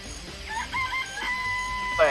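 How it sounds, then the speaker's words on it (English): A rooster crows in the video game Danganronpa: Trigger Happy Havoc amid faint clucking, a near, drawn-out cock-a-doodle-doo in several rising and sustained notes, then a brief louder squawk at the end. "Chickens!"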